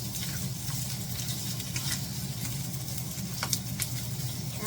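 Andouille sausage and pasta sizzle steadily in a skillet while a spatula stirs, a constant crackling fry with occasional scraping clicks and no voices.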